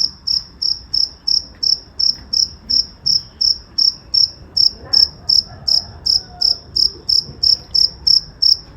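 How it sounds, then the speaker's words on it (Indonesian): A pet cricket chirps steadily in regular rapid pulses, close and clear, repeating evenly throughout with faint background rumble and no voices. "Lho janggrekku ngerik neh guys."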